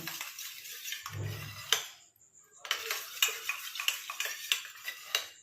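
A spoon stirring a coconut oil hair mixture in a bowl, with a run of light metallic scrapes and clicks, a brief pause, then quicker rhythmic taps against the bowl.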